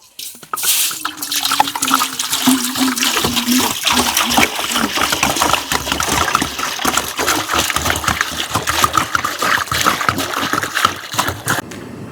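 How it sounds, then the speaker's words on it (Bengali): Water gushes and splashes steadily into a cooking pot for boiling rice, a loud, close, continuous pour lasting several seconds, with no voices. "এবার আমি ভাত চাপিয়ে দেবো। তো দিয়ে দেবো জল।"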